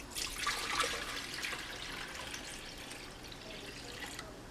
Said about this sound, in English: in our blender cup, we're going to be putting that 1 liter of water.